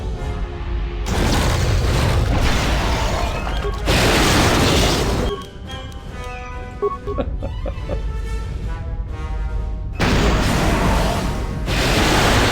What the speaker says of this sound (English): That is an ion grenade.